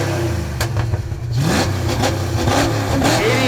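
A 1988 Ford Mustang LX with a mid-pipe exhaust revving hard at a car show revving competition, a loud engine climbing through several sharp pulls after a brief lull, with no talk over it.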